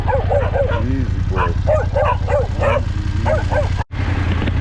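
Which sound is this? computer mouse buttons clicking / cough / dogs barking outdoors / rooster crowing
dogs barking outdoors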